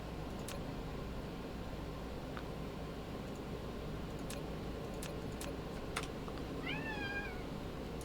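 A pet cat named Tachyon gives a short, faint meow near the end amid quiet room noise and scattered ticks and clicks.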